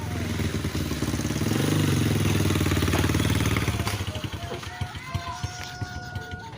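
A Kawasaki Ninja motorcycle engine runs nearby, a loud even idle that eases into a slower, pulsing throb, with people talking over it.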